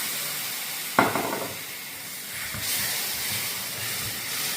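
Spiced masala sizzling in a pan as a little water is splashed in: a sudden loud hissing burst, then a steady steamy sizzle that swells again, close and continuous.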